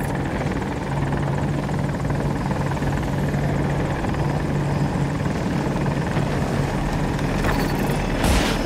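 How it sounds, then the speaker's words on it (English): A helicopter in a PC war video game gives a steady, loud rotor drone with a low thrumming pulse, continuous and close, with a brief clattering burst near the end. "Ooh, I get in the chopper."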